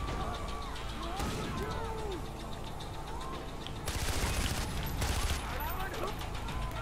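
Scorpion gun firing in the video game Far Cry 4, loud rapid automatic bursts that grow denser midway, with game effects and someone talking underneath.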